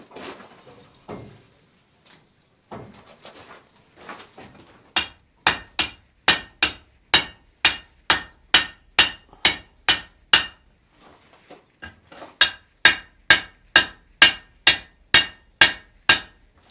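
A blacksmith hammers hot iron on a swage block while forging 18th-century strap hinges, a few soft taps and then two long runs of loud, evenly spaced metallic strikes separated by a brief pause.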